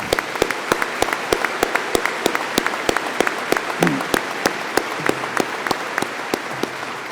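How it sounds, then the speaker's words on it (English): Crowd applauding at a naval shipyard change of command ceremony, steady dense clapping with sharp individual claps standing out, sustained for several seconds at moderate distance. "How about a round of applause for these men and women?"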